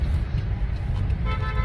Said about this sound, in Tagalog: Ngayon siya bubusina-busina, siya bumara doon.